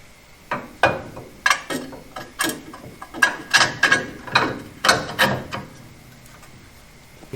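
Bolts on a Chevy Nova steering knuckle being tightened with a ratchet, about a dozen sharp clicking bursts in uneven rhythm, close and fairly loud, no talking.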